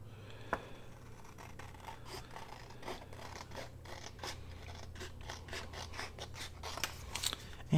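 Scissors trim a Tim Holtz wallpaper scrap while a triple pocket is being made for a crafting project. The snips come as a close, steady run of crisp cuts with no talk.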